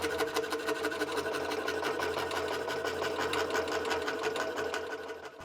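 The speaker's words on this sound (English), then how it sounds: "For the stopper, I'm going to cut a 1 1/8 inch circle from this 1/4 inch oak" Saw cutting a circle from 1/4 inch oak board, a steady rapid buzzing with fast rhythmic strokes continuing throughout at moderate volume.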